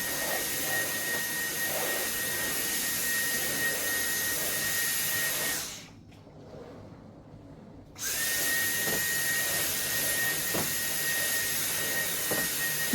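A Dyson cordless vacuum cleaner runs with a steady high whine and airy roar, cutting out for about two seconds midway before starting up again at full power, loud and close indoors.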